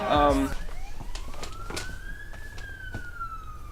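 Electric guitar tremolo effect cranked faster, giving a siren-like rising and sliding wail that climbs steadily then levels off, following a brief loud chord at the start.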